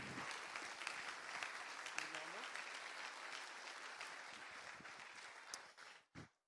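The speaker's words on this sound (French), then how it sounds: "vous pouvez vous applaudir aussi" A conference audience at a closing keynote applauds steadily, a dense sustained wash of clapping from a sizeable crowd that ends abruptly near the close.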